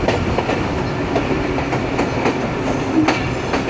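A passenger train rolls onto a loop line in heavy rain, steady loud rumble with repeated clickety-clack of wheels over rail joints, heard from on board without talk.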